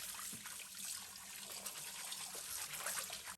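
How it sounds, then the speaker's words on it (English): Zongzi leaves are rinsed on both sides under running tap water, a steady faint splashing gush with small shifts as the leaves move through the stream, with no talking. "Now wash off both sides of the leaves."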